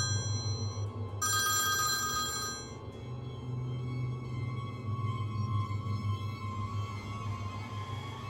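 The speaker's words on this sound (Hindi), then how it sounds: "टॉम को फोन आया है।" An electronic telephone ringtone repeats in bursts, a bright trilling ring that swells, pauses and resumes over a low steady hum, fairly clear and continuous.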